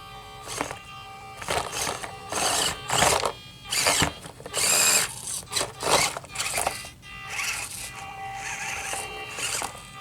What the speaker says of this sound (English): You can definitely hear the ESC working.